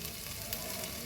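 Chicken biryani in a pot bubbling and sizzling with ghee and lemon, a steady soft simmering hiss with faint crackle, close and quiet, no voices.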